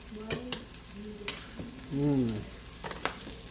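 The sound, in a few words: stir-frying ramen noodles with shrimp and veggies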